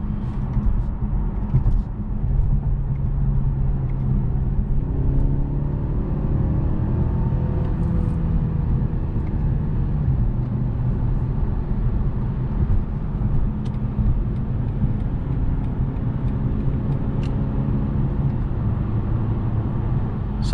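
A 2021 BMW 530i xDrive drives in sport mode with a steady, muffled engine and road rumble heard from inside the cabin, running continuously at an even level.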